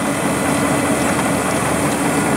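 A car engine idles during a cooling system flush, giving a steady, loud mechanical drone with a low rumble and no voices.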